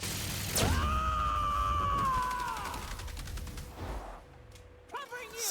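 A rapid burst of gunfire in The Outer Worlds on hard difficulty runs as a fast, even stutter beneath a loud sweeping whine, then fades into scattered clatter and a brief voice.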